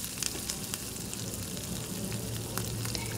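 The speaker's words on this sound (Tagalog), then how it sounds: "Isautay na po natin ang bawang." Chopped garlic sautés in corn oil over a low flame, giving a continuous close sizzle with light crackles and occasional soft pops.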